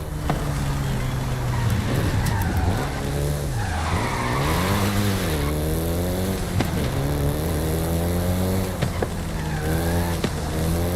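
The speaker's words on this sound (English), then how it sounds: "including the Golf GTI you're driving right now" A Volkswagen Golf GTI engine in the racing game Forza Horizon 5 revs up and down through sweeping gear changes, with loud, close tire squeals and a constant roar throughout.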